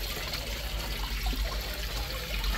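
Water from a waterfall poured steadily into a container, a continuous close trickling and splashing that lasts the whole moment with no speech.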